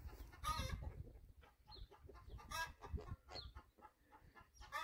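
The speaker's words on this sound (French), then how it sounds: "des poules, des canards" Chickens clucking on a farm beside a walking trail, with scattered faint clucks over a low, rumbling outdoor background, fairly distant and quiet.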